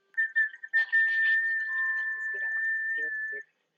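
A person whistles to a pet dog, a steady sustained tone with short chirpy notes at the start, close and clear, with brief soft vocal sounds near the end.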